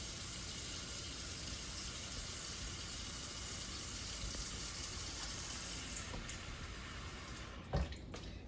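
Running tap water rinsing canned green beans in a sink, a steady broadband wash under the stream with a few clinks near the end, close and moderately loud, no voices.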